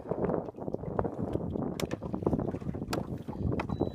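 Wind gusts buffet the microphone outdoors on the water during crappie fishing from a boat, a rough, uneven rumble with scattered knocks and splashes, close and continuous with no talk.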